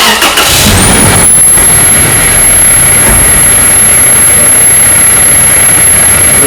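A 2005 Toyota Tacoma engine cranks briefly and catches, then settles into a loud, steady idle with a high whine running throughout, heard close up.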